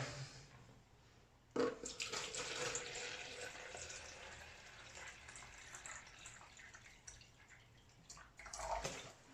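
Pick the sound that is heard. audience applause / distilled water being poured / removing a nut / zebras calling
distilled water being poured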